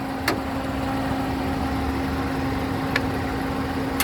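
A 2013 Suzuki Karimun Wagon R 1.0 GX manual with a 1000 cc three-cylinder engine idling with the hood open, a steady close hum with a constant tone, broken by a couple of brief clicks.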